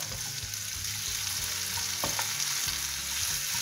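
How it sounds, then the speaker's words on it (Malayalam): Sliced onion and tomato sauté with ginger and garlic in a pan for a paneer masala, a steady close sizzle with brief stirring scrapes of a spoon against the pan. "സവാള ഇട്ട് കൊടുക്കണം. ചെറുതായിട്ടൊന്ന് വഴറ്റിയെടുക്കണം."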